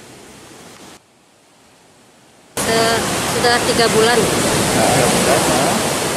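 High waves crash on an eroding, abraded beach in Padang, a dense loud roar of surf that cuts out briefly and then returns even stronger, with someone speaking over it.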